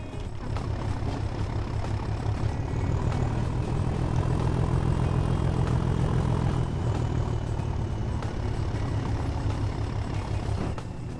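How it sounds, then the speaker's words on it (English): Class 37 diesel locomotive in Train Sim World 2 working hard as a heavy hauler on the Tees Valley Line, a loud, steady low droning engine roar with a throbbing rumble sustained throughout, no talk. "I can just hear the engine really giving it some"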